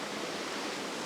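A stream rushes below a small cascade on Dartmoor in winter, a steady, close, full-bodied roar of water with no break over the brief moment.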